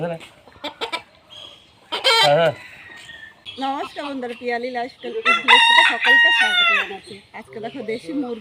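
Desi country chickens cluck and crow nearby in a home courtyard, loud and repeated, with a rooster's crow among the clucking while someone talks.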